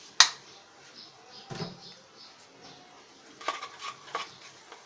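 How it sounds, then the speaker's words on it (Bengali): Egg noodles with tomato sauce are stirred in a pan: a sharp utensil clink opens, followed by soft, quiet scrapes and light clatters against the pan. "আমরা একটু টমেটো সসটা দিয়ে নেড়ে নিলাম।"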